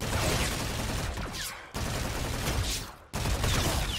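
Sentry turret firing in Call of Duty: Infinite Warfare Zombies, a dense, continuous rattle of rapid gunfire broken by two brief gaps, loud and sustained.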